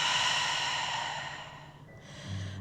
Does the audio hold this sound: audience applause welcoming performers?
no